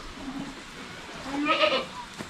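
A single goat on a farm gives one short, wavering bleat at moderate distance over faint background noise.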